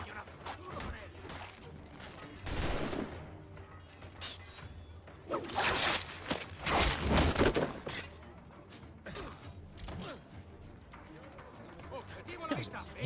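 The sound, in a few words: gunfire in the video game Assassin's Creed Black Flag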